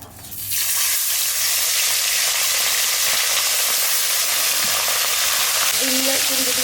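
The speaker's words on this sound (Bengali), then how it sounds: "ভালো তেল গরম হয়ে গেছে, এখন মাছ ফেলি, মাছ দিই।" Pomfret fish frying in hot oil, a steady loud sizzle that swells in soon after the start and holds, with a brief faint tone near the end.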